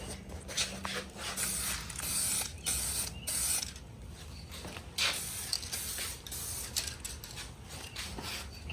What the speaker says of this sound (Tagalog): Can't spray too much.